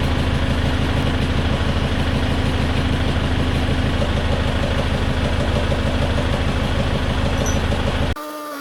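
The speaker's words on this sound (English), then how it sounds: "and then in the tractor." A tractor engine idles and runs steadily close by, a constant loud drone with a rhythmic low throb that carries on without pause until it cuts off abruptly near the end.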